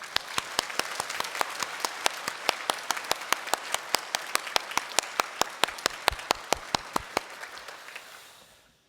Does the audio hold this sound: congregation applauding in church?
yes